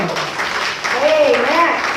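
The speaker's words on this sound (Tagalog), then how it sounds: "Palakpak naman dyan." Audience applause at a product knowledge presentation, a steady wash of clapping under a speaker's voice.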